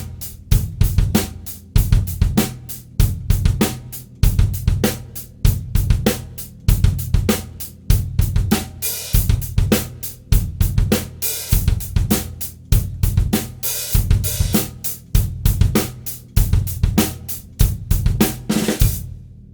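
A drum kit plays a funk groove, bass drum and snare hits repeating in an even looping pattern with sharp cymbal-like attacks, loud and close, with no talking throughout.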